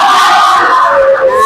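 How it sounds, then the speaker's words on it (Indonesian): A class of students chants a spirit clap cheer together, a loud continuous group shout with rising and falling voices across the whole moment. "Yuk, sebelum maju kita tepuk semangat sekali lagi."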